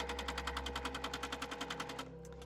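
A sewing machine stitches quilt block pieces in a chain, its needle pounding in a fast, even rhythm close by, then slowing and stopping near the end.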